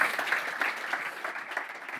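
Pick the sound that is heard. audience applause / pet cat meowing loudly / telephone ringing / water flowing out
audience applause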